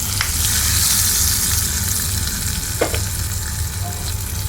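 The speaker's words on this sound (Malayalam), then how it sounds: "സ്വല്പം കായപ്പൊടി പിന്നെ നമ്മുടെ കറിവേപ്പില ഇനി കറിയിലേക്ക് ഒഴിച്ചു കൊടുക്കാം" A sizzling tempering of asafoetida, curry leaves and green chili is poured into ash gourd curry. A loud, continuous crackling hiss fills the clip, close by, with a brief stir near the end and no speech.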